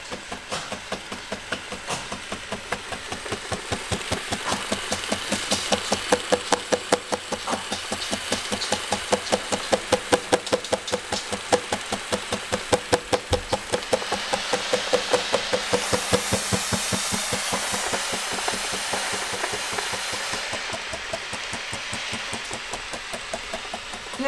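A Vileda Steam Plus steam mop heating up, giving a steady, rapid mechanical pulsing and rattling that runs alone and evenly loud throughout, close by.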